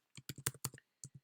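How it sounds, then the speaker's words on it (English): Keys clack on a computer keyboard as code is typed, a quick close run of about seven crisp taps, a short pause, then two more. "we're just typing this exact wording from the book."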